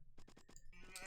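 Sheep in a real-time strategy game bleat in a quick run of four short, close calls, followed by a brighter burst of game noise.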